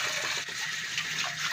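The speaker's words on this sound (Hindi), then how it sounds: "अगर दूध वाले और या चाय वाले बर्तनों में फ़ौरन पानी डाल दें" Water is poured into used milk and tea pots in a home kitchen, a continuous splashing gush running steadily and fairly close.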